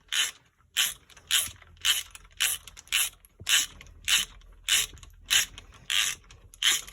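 A ratchet tightens a spark plug on a Triumph Spitfire in a regular series of about a dozen crisp, close clicking strokes with brief gaps between them.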